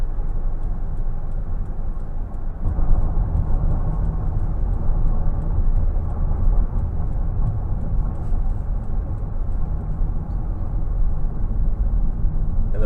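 A 2011 Toyota Sienna XLE minivan cruises at highway speed, its cabin filled with a steady low road and engine rumble plus faint ticking, heard from inside with no talking.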